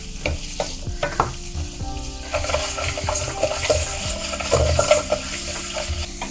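Potatoes frying in a pan in Bangkok, stirred with a spatula that scrapes and clanks against the metal over a continuous sizzle, close and busy, with no voices.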